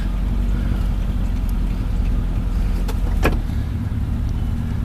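Suzuki Samurai engine fitted with a Toyota carburetor idling steadily at low pitch, a continuous close rumble with a brief click in the middle.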